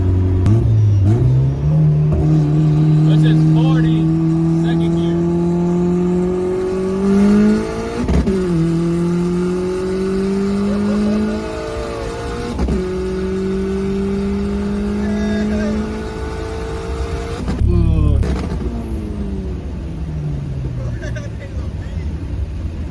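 A turbocharged Honda Civic EK engine revs hard through several gears on a highway, pitch climbing then dropping at each shift, loud and close inside the cabin with brief voices.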